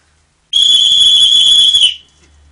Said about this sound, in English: Can't you hear Snowden's whistle blowing